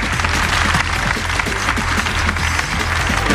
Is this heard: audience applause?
yes